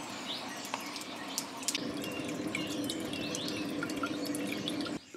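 Distillate drips from the spout of a Handshine still, with light irregular drips over a steady low background hum and faint bird chirps, close and quiet, with no speech.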